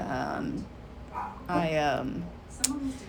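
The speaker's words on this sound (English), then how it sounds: "you're gonna hear my dogs bark because the FedEx guy's here" Household dogs bark at a FedEx delivery driver at the door, giving a few muffled yips and barks indoors while someone talks over them.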